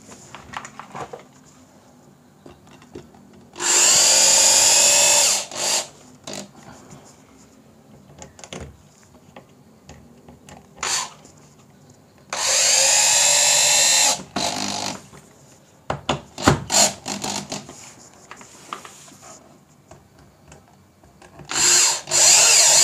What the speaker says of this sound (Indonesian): Kita skrup juga. Kasih 2 skrup cukup karena sudah memakai lem putih.